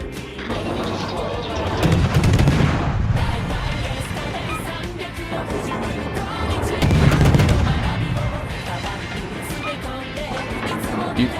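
Warship guns fire in a naval combat video game, heavy booming salvos rolling over dense battle noise, with two louder bursts of gunfire several seconds apart against a constant rumble.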